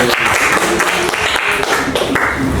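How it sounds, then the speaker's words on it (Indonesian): A class of students applauds a classmate's answer during a microteaching lesson, loud close clapping with rapid, uneven bursts throughout. "tepuk tangan dulu buat Dapat dong."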